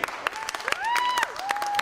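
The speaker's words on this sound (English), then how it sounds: "Can you just give a practice round of applause?" A comedy-gig audience in Bolton gives a short practice round of applause, dense hand claps swelling and fading within two seconds while a voice talks over the clapping.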